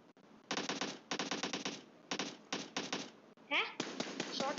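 In a PUBG Mobile duo match on the Sanhok map, automatic gunfire cracks out in several rapid bursts of shots with short pauses between them, and a brief voice-like sound breaks in partway through.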